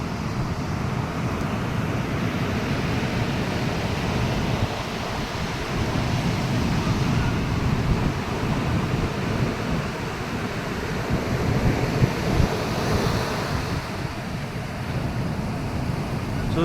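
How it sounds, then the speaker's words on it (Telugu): Ocean waves and wind at Baina beach in Vasco, Goa: a continuous roar of surf with wind buffeting the microphone, swelling and easing a little over time, with no clear pauses. "సో ఇదిరా బాలరాజు బయానా బీచ్, వాస్కో."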